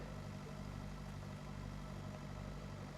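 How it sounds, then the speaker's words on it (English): A slow tractor engine in Pure Farming 2018 runs at a steady, low, faint drone, with an even rumbling hum and no change in pace. "This tractor is terribly slow."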